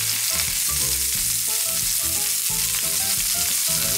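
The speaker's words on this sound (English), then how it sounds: "and then we're going to flip it" A beef burger patty, made as a butter burger, sizzles and crackles in a hot pan after being flipped. The frying hiss is steady and close for the whole stretch, with music playing underneath.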